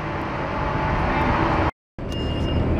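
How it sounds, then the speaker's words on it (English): Rapid city bus on Virginia Street, a loud, close engine rumble with broadband road roar that cuts out briefly, then resumes with traffic noise. "This is the Rapid bus."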